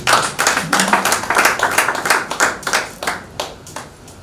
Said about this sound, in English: I thought somebody was going to clap for this case